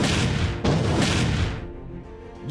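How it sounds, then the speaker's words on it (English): Naval fleet cannon fire in Mobile Legends: Bang Bang, loud booming blasts in quick succession with a sharp new volley near the middle, fading into a rumbling tail. "Sun-shin commands his naval fleet to launch 3 waves of cannon shots at the location of all enemy heroes"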